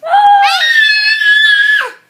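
A small child gives one loud, close, shrill scream. It starts at a lower pitch, jumps higher and holds steady for about two seconds before cutting off.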